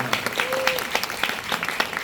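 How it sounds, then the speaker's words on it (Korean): A theater audience at a post-performance talk session at Sejong Center claps for three performers, a moderate burst of scattered applause with individual claps audible and a faint voice underneath. "다시 한번 세 분께 박수 한번 부탁드리겠습니다"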